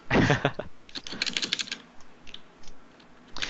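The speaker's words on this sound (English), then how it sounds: "Why do you like typing so much?" Fingers type on a computer keyboard in quick clattering bursts of keystrokes, close and crisp. The typing thins out in the middle, then picks up again at the end.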